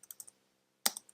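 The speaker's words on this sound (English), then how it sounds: "all we need to do now is type once again Almanack" Keys clatter on a computer keyboard as a terminal deploy command is typed for an Almanack site, four quick taps, a pause, then a louder burst of several keystrokes, close and alone.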